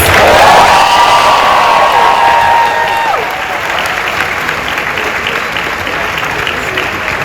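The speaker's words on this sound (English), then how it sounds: "SpongeBob got the biggest applause." A large graduation audience at Columbia College's 2022 ceremony breaks into loud, sustained applause with cheering and whoops, a crowd roar that holds steady throughout and tapers slightly after the opening burst.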